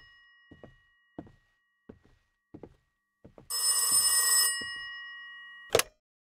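Telephone with a bell ring sounding one long loud ring burst, then a short final ring, with soft thunks and knocking footfalls spaced regularly before it in a quiet room.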